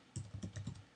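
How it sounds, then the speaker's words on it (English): Quiet keyboard typing as a name is entered into a calendar email invite, a short burst of four or five soft, evenly spaced key clicks close by with no voices. "Just start typing in the name"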